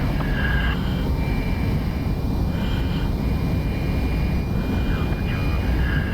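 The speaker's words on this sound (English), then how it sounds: "So full afterburner again." An F-5E Tiger II jet in DCS roars on full afterburner, a constant, dense, loud engine rush with a thin high whine on top, holding steady throughout.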